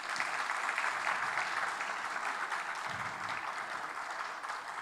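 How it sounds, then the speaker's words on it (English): Audience applause at the YetiCloud.AI data hub launch event, a dense, steady wash of many hands clapping that stays fairly even for about five seconds before easing slightly, heard from a moderate distance. "Please join me in giving them a well-deserved round of applause"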